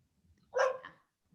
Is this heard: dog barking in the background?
yes